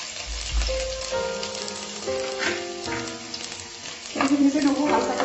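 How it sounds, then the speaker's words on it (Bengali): Chopped garlic dropped into smoking-hot mustard oil in a kadai, a crackling sizzle building under a background music bed, growing louder near the end. "কড়াইতে সর্ষের তেল ভালো করে গরম করে নিয়েছি, তেলটাকে ধোঁয়া উঠছে। এবারে রসুন কুচিগুলো দিয়ে দিলাম।"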